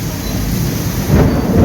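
Thunder rolls during a rainstorm, a low rumble building and growing louder toward the end over the steady hiss of falling rain, with no voices.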